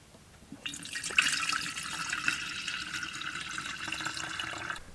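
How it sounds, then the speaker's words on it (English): Kombucha tea mixed with sugar, already cooled, is poured into a glass jar that holds a SCOBY. A steady, close stream of liquid runs for about four seconds with no talk. "I just have to pour that concoction into the glass jar over here with the SCOBY."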